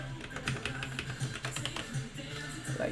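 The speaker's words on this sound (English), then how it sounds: "At least let me type normally." Rapid, uneven typing on a computer keyboard during a live coding session, steady close key clicks with brief pauses, heard alone.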